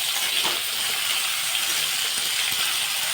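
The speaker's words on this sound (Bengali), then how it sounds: "এবারে ভালো করে আলুগুলোকে আমার নেড়ে নিতে হবে" Potatoes stirred and frying in a pan for a Bengali muri ghonto, giving a steady, close, moderately loud sizzling hiss throughout with faint scraping, no voices.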